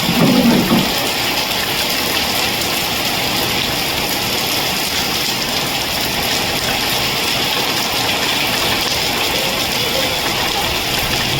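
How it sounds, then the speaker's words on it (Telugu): Steady, heavy rain roars without a break, a dense broadband wash of downpour close by, with a low rumble underneath that suggests distant thunder. "మెరుపులు ఉరుములు అయితే భారీగా శబ్దాలు చేస్తున్నాయి."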